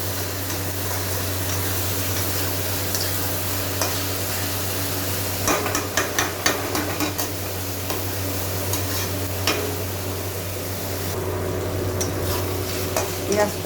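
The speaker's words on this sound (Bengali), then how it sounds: "পেঁয়াজটাকে আমি এখন ভেজে নিব।" Onion frying in oil in a pan for a chicken and potato curry gives a soft, steady sizzle, with occasional stirring clicks and scrapes near the end and a constant low hum underneath.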